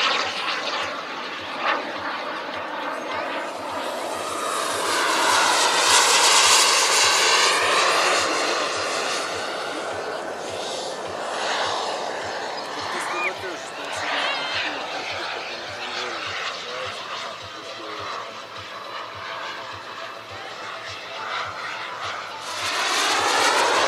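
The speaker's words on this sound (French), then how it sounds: "Par Jérôme Weinrich, une machine de 22 kg équipée d'un réacteur Franke d'une puissance" A 22 kg jet-powered model aircraft with a Franke turbine engine roars past at an air show meeting, a loud sustained turbine whine and rush that swells and fades over the whole stretch, with no talk over it.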